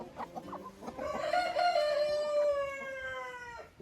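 A chicken clucks a few times, then lets out a long, drawn-out crowing call that slowly fades; close by with no talking.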